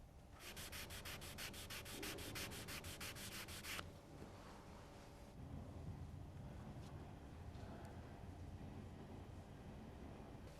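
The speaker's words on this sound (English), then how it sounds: "Again, note how gently Paul uses the wet and dry to avoid removing too much clear coat." Wet and dry sandpaper rubbing across car clear coat during a deep paint scratch repair, a steady rasping scrub with rapid back-and-forth strokes early on, then continuing as a softer, even abrasive hiss close up.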